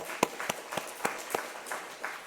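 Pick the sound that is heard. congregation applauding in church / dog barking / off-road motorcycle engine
congregation applauding in church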